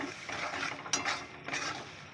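A spoon stirring chickpea dal with salt in a hot pan, soft scraping and sizzling with a couple of sharper metal clinks against the pan in a brief stretch.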